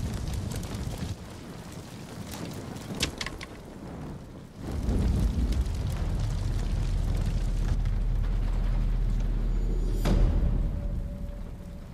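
In the samurai action game Ghost of Tsushima, a big explosion erupts with a sudden deep boom, then a sustained heavy rumble and roar that lingers for several seconds.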